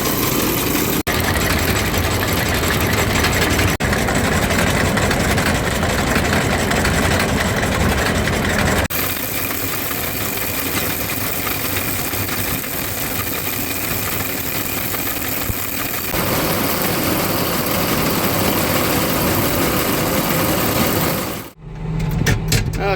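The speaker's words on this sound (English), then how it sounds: "Gonna fire up the tractor here real quick, get the PTO kicked on" Farm tractor engine running steadily at idle through the whole stretch, a loud continuous low rumble with vibration that shifts tone partway through, then briefly cuts out near the end before resuming.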